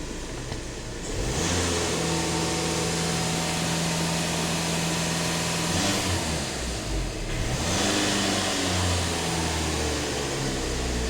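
A VW Passat with about 500,000 km, in for an emissions system cleaning, revs up during a diagnostic lambda sensor test with both pedals pressed, rising sharply from idle and holding a loud steady drone with a brief dip midway.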